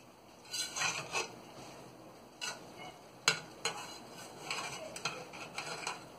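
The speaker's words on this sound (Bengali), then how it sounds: "এটা দিয়ে নেড়ে দিচ্ছি" A utensil stirring omelette and potato curry in a pan, giving quiet intermittent scraping strokes and light clatter over a faint sizzle, with no voices.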